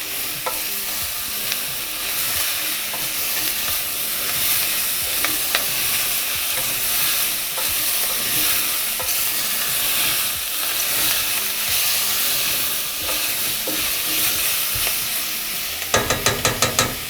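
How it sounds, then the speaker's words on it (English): Red lentil bolognese sauce steadily sizzling in a pan while a utensil stirs it, a continuous close frying hiss with light scrapes and a burst of sharper clatter at the very end. "And give that a stir."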